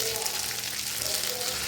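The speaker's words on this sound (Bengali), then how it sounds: "পেঁয়াজটা হালকা ভাজা হয়ে গেছে, তারপরে দিয়ে দেবো ছিমের বিচিগুলি" Onions sizzling and frying steadily in a pan for a hilsa and bean-seed curry, a continuous close, even crackle with no talking.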